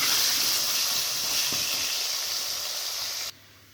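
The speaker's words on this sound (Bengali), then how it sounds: "একটু কচুগুলো হালকাভাবে ভেজে নেব।" Pieces of taro root fry in hot oil, giving a steady, close, loud sizzle with no talking, which cuts off sharply near the end.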